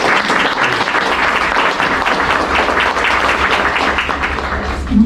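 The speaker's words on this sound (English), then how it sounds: "So can I have a round of applause?" Sustained applause from a local interest group audience fills the whole stretch, dense and steady, with loud continuous clapping and no pause.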